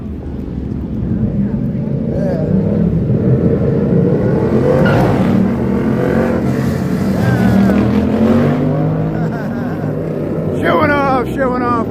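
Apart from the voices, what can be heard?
motorcycles approaching on city street, popping wheelies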